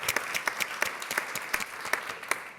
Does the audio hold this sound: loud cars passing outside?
no